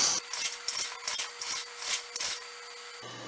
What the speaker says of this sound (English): So you can hear the robot moving right now for me.